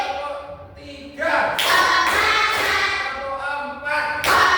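A classroom group claps in rhythmic bursts, several sharp broadband claps spaced through the second half, while voices chant and speak over and between them.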